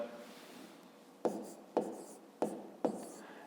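A pen writes a division calculation in a fifth-grade math lesson, four short distinct strokes tapping and scratching against paper in an uneven rhythm, close and fairly quiet over faint room hiss.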